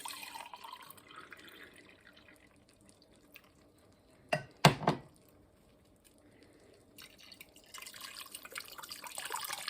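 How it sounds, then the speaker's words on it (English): Water splashes and trickles briefly as it is poured into a pot in a short burst midway, with quiet kitchen background before and a hissing noise afterward. "into that we want 1 soup can of water"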